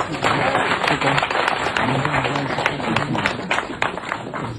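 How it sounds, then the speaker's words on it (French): Audience clapping at a Songon gathering honoring the chief organizer, a steady dense patter of hands close by with voices talking over it throughout. "On applaudit bien fort."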